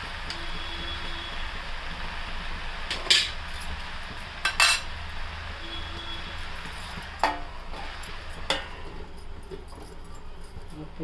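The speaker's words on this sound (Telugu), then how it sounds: "బాగా కలుపుకోవాలి." A spoon scrapes and clinks against a pan while a paneer mix curry is stirred, a few sharp metallic knocks standing out over a steady low background of cooking noise, with no talking.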